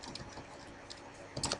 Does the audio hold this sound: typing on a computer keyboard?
yes